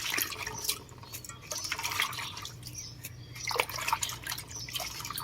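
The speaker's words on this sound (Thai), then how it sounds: "ล้างแล้วก็ใส่ตะแกรงค่ะ จะได้เสร็จน้ำ" Washed edible insects sit draining in a strainer, water dripping and trickling steadily through the mesh close by, with small splashes and no voices.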